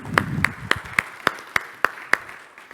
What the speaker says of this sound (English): Ladies and gentlemen, a round of applause if you would, please.